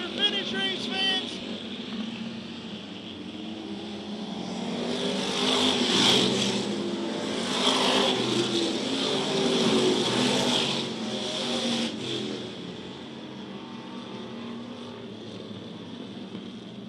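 Topless modified race cars roar to the finish at Charleston Speedway, engines droning and revving together in a loud, sustained pass that swells and fades, with a race announcer calling the action over it.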